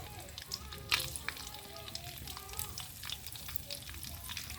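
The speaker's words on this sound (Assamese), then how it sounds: "কিচমিচ আৰু কাজু বাদামখিনি ভাজি ল'ম।" Raisins and cashew nuts fry in refined oil in a pan for a mutton pulao, giving a quiet, steady sizzle with a few faint clicks and scrapes, no talking.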